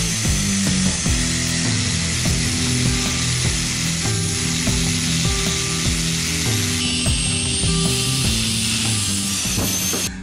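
Power tool cutting through a steel lifting screw to shorten it for a homemade English wheel, a loud continuous grinding cut with a rattling mechanical chatter running steadily throughout, no talking.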